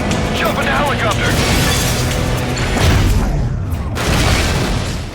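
In the video game Stuntman: Ignition, heavy booming blasts and crashing debris rumble continuously under game action, with surges of loud noise near the middle and end.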